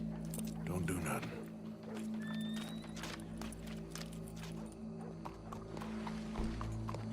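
Horse hooves clip-clop in Red Dead Redemption 2, soft uneven steps under a steady low hum, with voices talking over them.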